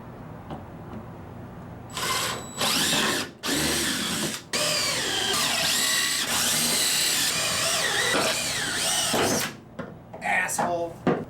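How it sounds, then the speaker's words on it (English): Power drill pre-drilling holes in wood for a truck bed organizer, with several bursts of high whirring separated by short pauses at close range, mixed with talk. "Let's pre-drill."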